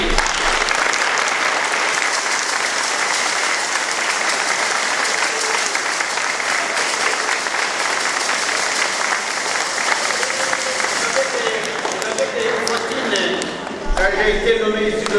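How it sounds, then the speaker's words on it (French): Sustained applause from a church congregation at a first communion ceremony rolls on evenly for most of the span, dense and close, then briefly thins before picking up again as a voice speaks. "Vous pouvez les applaudir."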